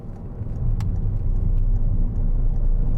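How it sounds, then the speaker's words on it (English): A car speeds past on an open road, a steady, loud engine roar and tyre rumble lasting the full three seconds, heard from inside a DS 3 PureTech test-drive vehicle, with no talking. "Nice car just about to burn us off here."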